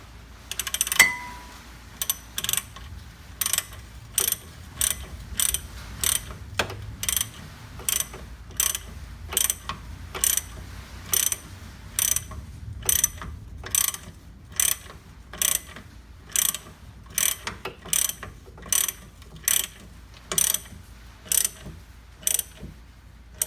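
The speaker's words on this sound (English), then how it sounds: "A 17 millimeter wrench in here" A ratchet wrench turning a bolt on car suspension near the sway bar, with a 17 mm wrench in use, gives crisp, evenly spaced bursts of clicking that repeat steadily and close up, with no talking.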